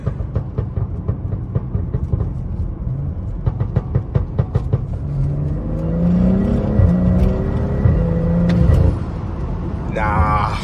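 A BMW F30 with the N55 engine running, first a rattling, pulsing idle, then a smooth rising rev that climbs and falls back, heard close from inside the car.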